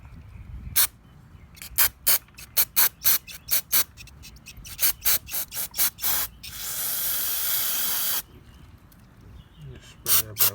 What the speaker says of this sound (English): We're gonna be using some carb cleaner to get this boy cleaned up.